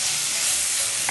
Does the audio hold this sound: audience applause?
no